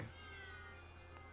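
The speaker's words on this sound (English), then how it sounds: "Cats." A single drawn-out cat meow, tonal and wavering, heard close over a low steady hum, brief and alone.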